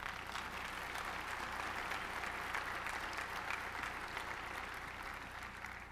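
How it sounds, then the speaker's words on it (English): Steady applause from a ceremony audience at a NASA center renaming event, sustained and fairly faint throughout the clip, with no clear voices over it. "Both Dryden and Armstrong, you can applaud"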